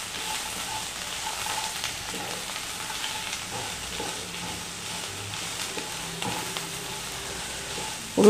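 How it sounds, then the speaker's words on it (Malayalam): Onions sautéing with salt in a pan for a beef and elephant yam dish, a steady, moderate sizzle throughout with faint stirring, no voices. "ഉള്ളി പെട്ടെന്ന് വഴലാൻ വേണ്ടിയിട്ടാണ് ഉപ്പ് ഇട്ടിരിക്കുന്നത്."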